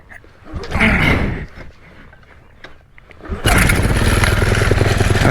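A paramotor engine fires up and settles into a loud, steady propeller roar close by, after a brief earlier burst of revving and a quieter pause.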